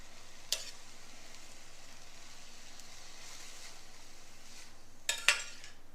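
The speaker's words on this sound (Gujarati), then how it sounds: "આ રીતે થોડી વાર હલાવી અને થવા દઈએ" Vasoti leafy greens cooking down in a pan make a soft, constant low sizzle, broken by a few brief spoon scrapes and clinks near the start and end.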